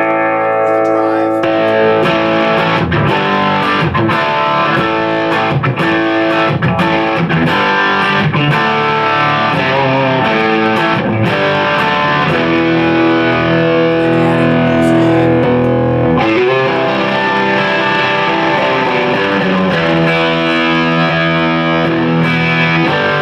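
Electric guitar through an overdrive pedal voiced for a Marshall-style distortion plays chords and riffs for over twenty seconds, loud and gritty, with a short break in the middle before continuing.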